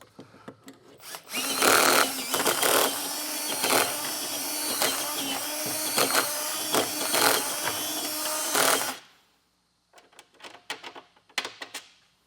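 A drill bores out and enlarges a hole in the steel frame rail of a 2021 Ford Transit during a hitch install, grinding loudly and steadily for about seven seconds before stopping, followed by a few short clinks and handling noises.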